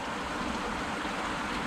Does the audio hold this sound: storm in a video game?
no